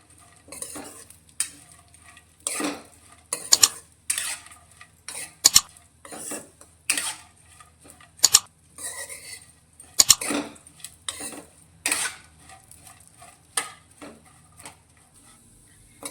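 Mango seeds being sautéed in ghee in a pan over low heat, with a spoon scraping and clinking against the metal in irregular bursts over a faint sizzle, close up and with no talking.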